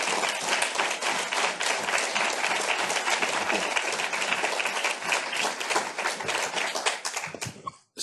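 A conference audience breaks into sustained, dense applause to welcome a keynote speaker. The clapping holds steady and loud for several seconds, then tapers off abruptly at the end.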